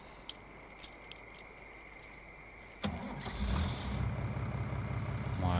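A farm vehicle in Farming Simulator 19 sits quietly, then its engine surges up and stays loud as it pulls away, a rumbling low drone with a rising whine near the end.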